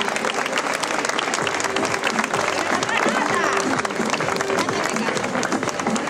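Carnival crowd in Telde, Gran Canaria applauding the winners of a high-heels race: dense, steady clapping mixed with crowd cheering and voices, loud and continuous throughout.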